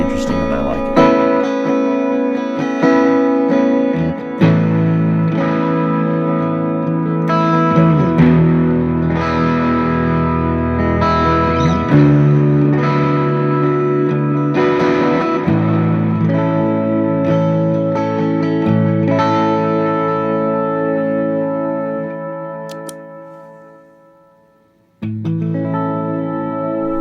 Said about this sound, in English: So it's kind of a delay with reverb type setting.